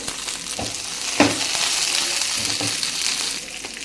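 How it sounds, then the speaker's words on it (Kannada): Whole unpeeled garlic frying in a pan for chilli chutney, with a steady close sizzle and a few stirring clinks and scrapes, no talk. "ಈಗ ಒಂದು ಇಡಿ ಬೆಳ್ಳುಳ್ಳಿ ಸಿಪ್ಪೆ ಸಮೇತ ಹಾಕಬೇಕು"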